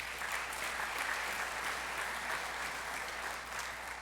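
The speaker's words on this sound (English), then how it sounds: "Please give them a round of applause." Congregation applauding volunteers during a Yom Kippur service, an even, sustained round of clapping from a large gathering heard without talk.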